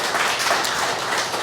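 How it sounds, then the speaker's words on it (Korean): A church congregation applauds during a Sunday anniversary worship service in Guam, a steady wash of clapping filling the room at moderate loudness for the whole moment, with no voices rising above it. "다시 한번 박수 좀 부탁드리겠습니다"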